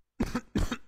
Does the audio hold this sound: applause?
no